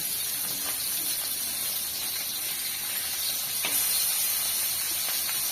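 Onion, garlic and fish frying in a pan over a village cooking fire, giving a steady, close hiss of sizzling oil with small crackles throughout and no talking.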